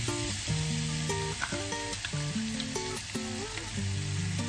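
Sweet and hot peppers hit softened onion in a pan, giving a steady close sizzle with frying crackle throughout, no voices over it.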